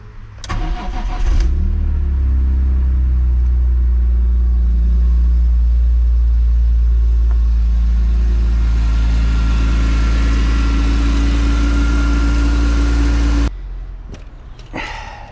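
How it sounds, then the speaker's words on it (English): A BMW E46 M3 engine starts up and settles into a loud, steady idle that runs unbroken for several seconds before it is switched off. "Let engine warm up, then idle for at least 15 seconds."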